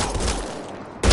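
Gunfire in Mass Effect Andromeda rattles as a brief burst of shots, then drops off before a louder crack or blast lands at the end.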